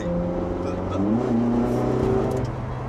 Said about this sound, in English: I feel guilty opening the throttle on public roads